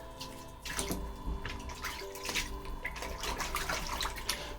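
Running water rinses a cyanotype print on canvas in a steady, close wash, with scattered splashes and drips breaking through a continuous hiss; no one talks.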